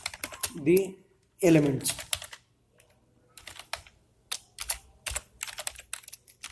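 C++ code being typed on a computer keyboard, quick clusters of crisp key clicks with pauses, while someone speaks over the start.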